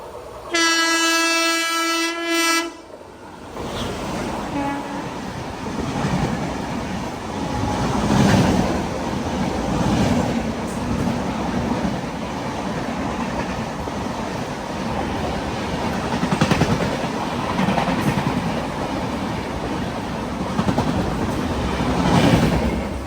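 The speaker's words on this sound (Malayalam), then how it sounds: "ഇതുവഴി ഒരു ട്രെയിൻ കടന്നു വരുന്നുണ്ട്." An MGR Chennai Central Superfast train passes near Trikaripur, opening with a loud horn blast, then a sustained heavy rumble and clatter of rail cars rolling by up close.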